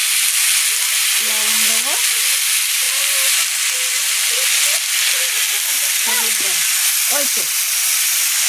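Ridge gourd and tele pitha greens cook in a pot with a steady loud hiss and bubbling sizzle that stays constant throughout, while someone speaks briefly now and then over it.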